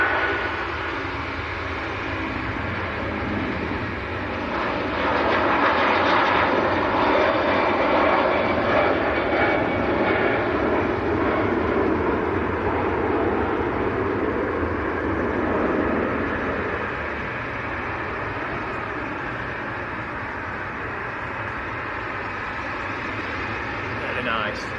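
A Jet2 Boeing 757 departs runway 23 right at Manchester Airport, its engines roaring loud and sustained throughout. The roar swells slightly midway, and voices are faintly audible underneath.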